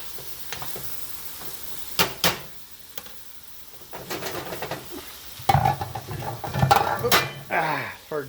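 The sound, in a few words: stirring simmering pork and squash in a pot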